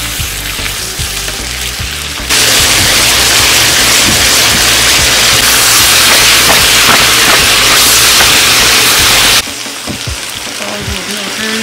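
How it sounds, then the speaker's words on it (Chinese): Meat stir-fried with tofu skin and wood ear mushrooms in a hot wok, a loud, steady sizzle that surges sharply in the middle and then drops back to a quieter crackle with light stirring. "翻炒均匀，"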